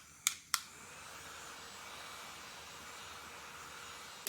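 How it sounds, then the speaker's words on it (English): A small handheld fan blows steadily on a face just misted with makeup setting spray, a faint, even airy whir running after two sharp clicks switch it on. "I use this fan."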